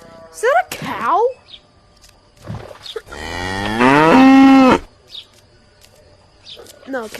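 A cow in the I Am Cat video game moos loudly and close, one long drawn-out low call, with shorter game sounds and faint chirps around it.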